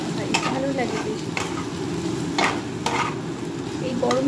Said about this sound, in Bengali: এই গরম করার মধ্যে মুড়িটা একটু নেড়ে দিলে আলু ভাজার সাথে খুব ভালো লাগে খেতে